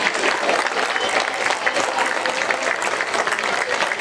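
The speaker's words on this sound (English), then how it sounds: "round of applause for the organizers of this incredible feast" A crowd claps steadily for several seconds, a dense, even wash of applause nearby.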